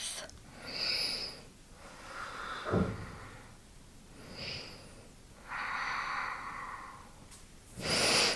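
Slow, deep breaths during a yoga session for hip flexibility, each inhale and exhale drawn out and soft, heard close in a quiet room with faint breathy sighs and no talk.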